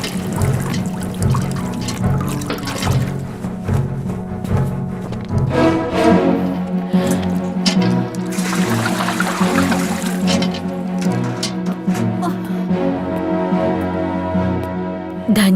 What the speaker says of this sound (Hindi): जाओ इसका मटका पानी से भर दो।